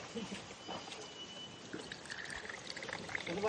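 Coconut water pours into a glass with a faint, continuous trickle, set against low background noise.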